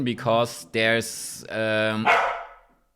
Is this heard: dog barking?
yes